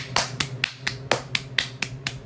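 Slow, evenly spaced sharp claps or snaps, about nine in two seconds, crisp and fairly close against a low steady hum.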